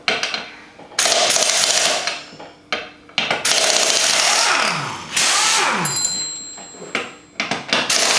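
Wrenching and clanking while a wheel comes off a Can-Am Outlander ATV during axle hub bearing repair: irregular metallic ratcheting, scraping and knocks in uneven bursts, close by, with no voices.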